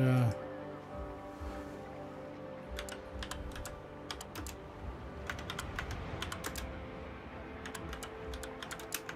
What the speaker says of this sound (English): you can probably hear me typing away.